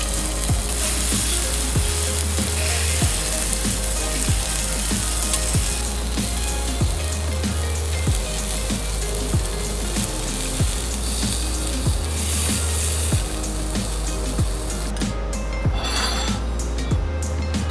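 Kobe and Wagyu beef sirloin cooked medium rare on a hot grill sizzles continuously and loudly, with a rhythmic clinking and tapping of metal utensils over the frying.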